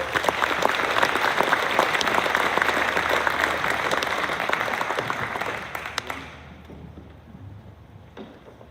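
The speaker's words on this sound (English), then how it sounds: "Give them a big round of applause." An audience at a school varsity sports award program claps loudly and continuously, the applause thinning and fading away toward the end.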